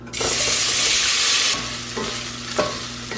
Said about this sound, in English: Add in the sage and make it nice and crispy